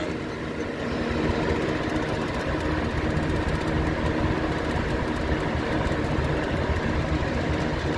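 A vintage Lakewood box fan runs steadily on a hard countertop, its broad whooshing drone constant and close, with the grill adding a faint buzzing rattle throughout and no talking.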